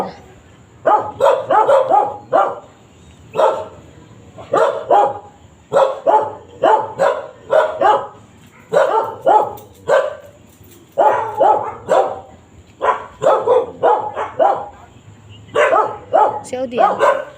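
Several dogs bark loudly and repeatedly in bursts, close and continuous across the whole stretch, with people talking over the barking in between.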